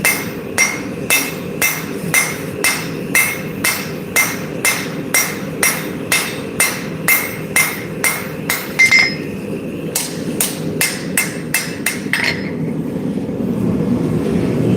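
Rhythmic hammer blows forging a steel blade, about one strike per half second, sharp metallic ringing for roughly nine seconds, then a few scattered hits before a steady grinding-like noise takes over.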